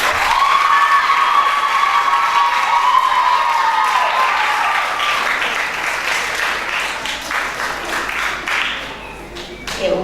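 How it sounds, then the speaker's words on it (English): A crowd applauds steadily with scattered cheers for finalists at a school reading competition final, the clapping fading somewhat toward the end. "Give him and all the other finalists a round of applause"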